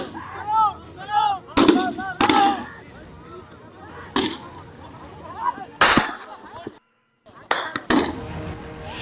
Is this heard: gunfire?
yes